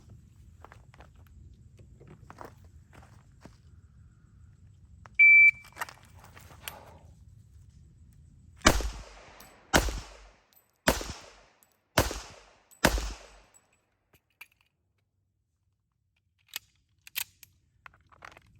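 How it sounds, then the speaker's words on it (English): Five sharp pistol shots fired at an outdoor range, drawn from the holster and moving from standing to kneeling, crack out loud and close in an uneven sequence of about a second apart, with quiet ambient noise before and faint clicks after. "next is going to be 5 rounds in 20 seconds, standing to kneeling from the holster"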